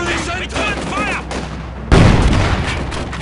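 Company of Heroes gunfire in a Stalingrad battle: after a voiced line, a loud burst of automatic fire and explosions erupts and continues as rattling combat noise.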